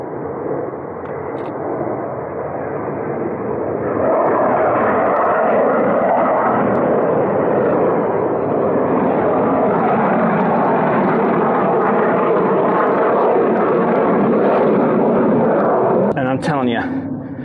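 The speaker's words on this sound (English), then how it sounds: "the one jet that flies the closest and turns so that you can see everything flies over" A jet flies overhead, a broad rising roar that swells and holds loud for most of the stretch as it passes close.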